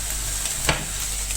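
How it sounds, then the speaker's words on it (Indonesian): Meat frying in a pan in a home kitchen, a steady close sizzle with a faint stir or clink partway through, no voices. "ini gorengin daging"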